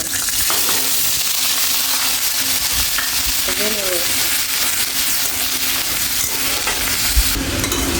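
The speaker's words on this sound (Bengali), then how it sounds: "আমি আর একটু সরিষার তেল দিয়ে দেব, একটু জিরা ফোড়ন দিয়ে দেব। আমি অল্প পেঁয়াজ রসুন বাটা দিয়ে দেব।" Cumin seeds tempering in mustard oil with onion-garlic paste sizzle in a dense, steady hiss, with stirring scrapes running through it.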